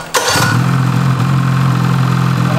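Ski-Doo Rev-XM snowmobile engine cranks and catches, then settles into a steady, loud idle close by with no voices.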